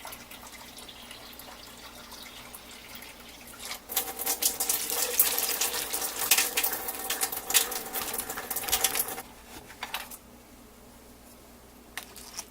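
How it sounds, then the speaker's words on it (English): Water runs and splashes into a pressure cooker pot while ham and cabbage soup is being made, a soft hiss that grows louder and rougher midway and then settles back down. "I'm just going to fill this up with water"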